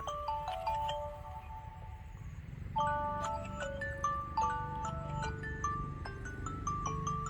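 A mobile phone ringtone plays a bright electronic melody of short repeating tones, looping steadily and fairly clear over a faint background hum with no talking.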